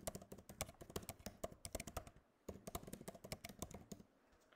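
Typing on a computer keyboard to enter an email address for a password reset, with steady, quick clicking keystrokes in two bursts separated by a brief pause, close and alone.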